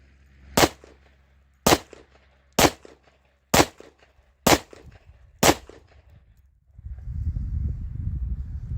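Six sharp, evenly spaced shots ring out from a Tisas Yukon 10mm pistol firing a magazine of S&B ammunition, each report loud and close with a short tail, followed by a rustling, shuffling noise.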